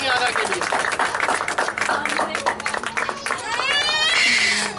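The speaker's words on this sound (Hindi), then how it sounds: "जोरदार ताली बजाएंगे" An audience at a Bible school graduation ceremony claps loudly and continuously, with cheering voices and a speaker talking over the applause.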